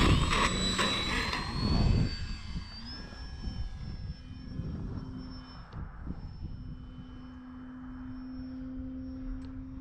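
An E-flite Valiant 1.3m RC airplane flies with a steady electric motor whine, its pitch gliding up then holding level, with wind buffeting loudly at the start before the tone settles into a sustained drone.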